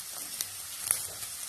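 Sliced big onions with small onions and green chillies frying in hot oil for Kerala kadala curry, a steady hissing sizzle with a couple of faint utensil taps, no talk.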